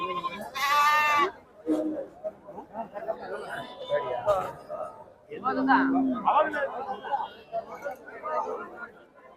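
Sheep and lambs bleat loudly at a busy Wednesday livestock market in Kudligi, with a close, strong call at the start and more bleats midway, under steady crowd chatter and talk.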